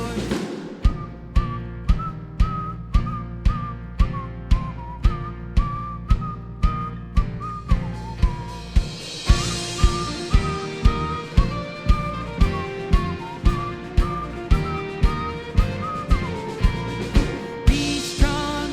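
A church Vacation Bible School group whistles the tune of a praise song, "Be Strong in the Lord," over a steady thumping beat of claps and stomps. The whistled melody runs continuously, loud and close.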